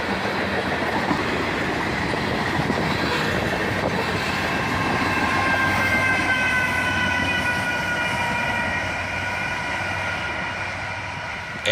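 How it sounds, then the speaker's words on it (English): A freight train led by three locomotives, two ET44AH units, a GP40-2 and a Canadian Pacific ES44AC, rolls steadily past close by with a continuous heavy rumble, grinding wheel noise and faint squealing tones, and no voices. "Three locomotives lead this train, an ET44AH, a GP40-2, and a Canadian Pacific ES44 AC."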